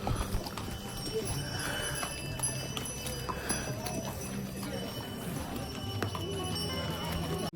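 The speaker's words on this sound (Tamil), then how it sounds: "நிறைய பேர் குதிரையில் போகிறாங்க." Horses walking on the mountain trail to Muktinath, hooves clip-clopping in an uneven steady rhythm with faint bell-like jingles, under continuous outdoor noise and people talking.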